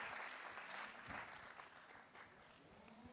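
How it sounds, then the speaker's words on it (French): Audience applause at an innovation awards ceremony: a steady patter of clapping from a crowd that runs throughout, heard at moderate distance with no speech over it. "on peut l'applaudir, Alexandre Justom"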